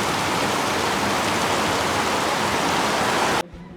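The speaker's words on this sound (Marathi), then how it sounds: "आता जोरात पाऊस पडत आहे।" Heavy rain pours down steadily in a village during the monsoon, making a loud, dense, unbroken hiss that cuts off sharply near the end.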